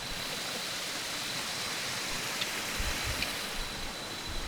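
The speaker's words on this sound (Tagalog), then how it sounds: "So we'll be exploring the Batlag Falls." Constant broadband roar of the Batlag Falls waterfall, a steady outdoor wash of falling water heard alone, with a couple of faint brief thumps near the end.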